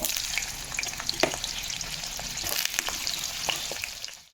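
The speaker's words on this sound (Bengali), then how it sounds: "প্রথমে ভেজে নেবো আমি পটল" Pointed gourd frying in hot oil in a wok, a dense crackling sizzle with scattered pops, close and fairly loud, steady before fading out abruptly at the end.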